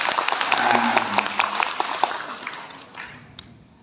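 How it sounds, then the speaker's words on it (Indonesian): Audience applause fills a gathering of village development facilitators in Purwokerto, a dense wash of clapping that stays steady for a few seconds and then tapers off, with a few last claps near the end. "Tepuk tangan untuk Pak Nur Said."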